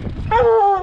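A single drawn-out hunting hound bark or howl rings out close by during a mountain lion hunt in Utah, a tonal yelp lasting under a second.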